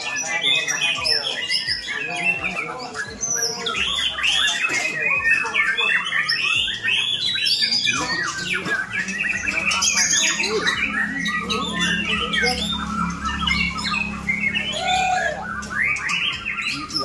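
A white-rumped shama, the murai batu, sings a rich, varied stream of loud whistles, chirps and trills close by, continuous throughout with a low background hum.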